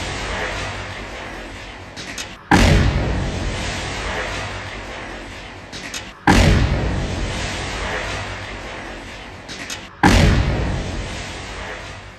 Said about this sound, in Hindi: धमाके की गूंज सुनिए।